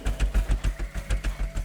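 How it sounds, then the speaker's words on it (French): Tractor engine in the Scrap Mechanic video game, a low rhythmic chugging with about ten regular thumps repeating over under two seconds, loud and close, with no voices. "du coup c'est un tracteur sans thruster"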